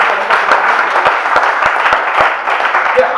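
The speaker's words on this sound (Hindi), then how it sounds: "एक बार मिलकर सब ताली बजाएंगे" Applause from a live audience at a Hindi poetry recital, a dense steady patter of many hands clapping close and loud throughout, with no speech over it.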